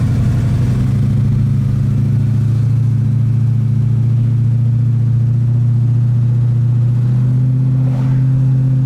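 A 1968 Ford Mustang coupe is driving, heard as a loud, steady, deep engine drone from inside the car, with a slight change in pitch near the end.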